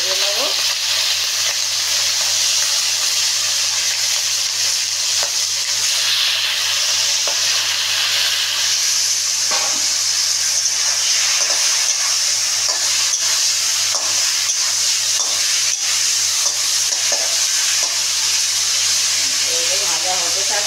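A hilsa fish head fries in a pan in its own oil with a loud, steady sizzle and hiss, broken by occasional crackles and stirring scrapes, and a voice speaks at times over it.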